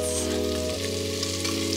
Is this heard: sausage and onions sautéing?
yes